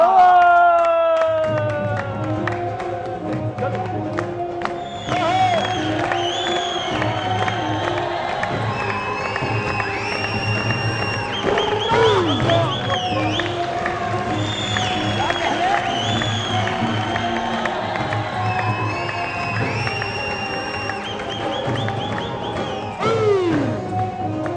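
Studio audience on a Pakistani TV comedy show applauds and cheers in a loud, sustained crowd roar with whoops and clapping, while a host's voice and music carry over it throughout.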